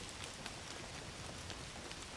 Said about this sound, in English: Don't you love rain?